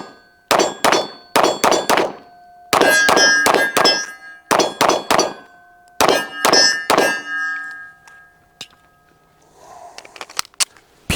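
A Canik Mete MC9LS pistol fires at steel targets, each shot a sharp crack followed by a bright metallic ring, in quick bursts of two to four with short pauses between them, then fainter clatter at the end.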